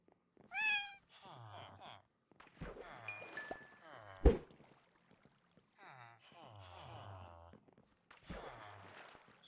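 Cats in the video game Minecraft meow several times in separate bursts, fairly close, with a sharp click or thud in the middle and quiet gaps between.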